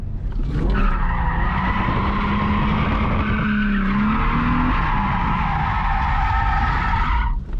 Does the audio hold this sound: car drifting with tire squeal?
yes